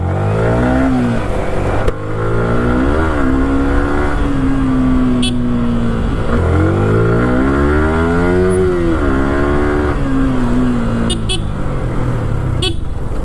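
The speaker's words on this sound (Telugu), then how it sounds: "మ్యూజిక్ అంటే ఇంజన్ సౌండ్" Second-hand sport motorcycle engine revs repeatedly, loud and close, the pitch rising and falling in several throttle blips over a continuous running drone, with faint clicks.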